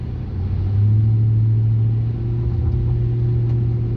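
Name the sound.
2009 Ram 2500 5.7L pickup truck driving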